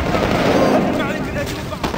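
A loud, rumbling grenade explosion in Medal of Honor Warfighter with a broad burst of noise, followed by crackling debris and a speaking voice over busy battle sounds.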